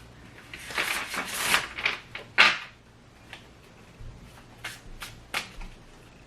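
Tarot cards are shuffled in a few quick riffling bursts close by, followed by softer taps and handling sounds.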